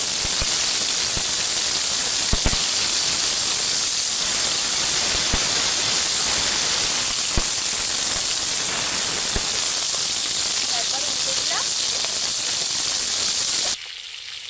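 Two hilsa fish heads frying in hot mustard oil with turmeric give a steady, loud hiss of sizzling, with faint clicks scattered through, before the sound drops away at the end.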